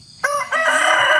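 Rooster crowing nearby, one loud, bright, drawn-out crow that starts sharply and holds to the end of the short clip, with no talk over it.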